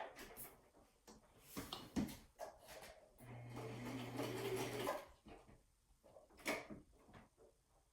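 A sewing machine stitches through scrap paper in one short, faint buzzing run of under two seconds, with soft handling clicks and rustles before and after.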